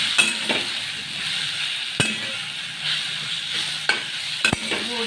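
Pathari bhaji (a wild leafy green) stirred and sizzling in a hot pan with garlic, a steady frying hiss broken by a few sharp scraping clinks of the spoon against the pan, close and with no talk.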